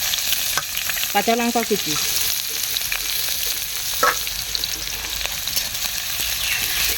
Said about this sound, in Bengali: পেঁয়াজ হালকা করে ভেজে নিয়েছি